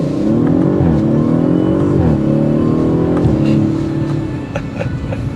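A 2023 Audi RS5 Sportback launches hard from a standstill in RS2 mode, its engine roaring loud and close through several rising gear pulls, each ending in a brief dip at the shift.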